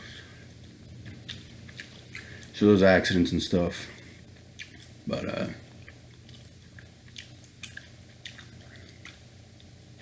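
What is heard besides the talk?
gum chewing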